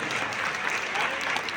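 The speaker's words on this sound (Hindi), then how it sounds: "मैं चाहता हूँ उन दोनों के लिए एक बार जोरदार तालियां।" An audience breaks into loud, dense applause at a poetry recitation event, continuous clapping filling the whole moment with no break.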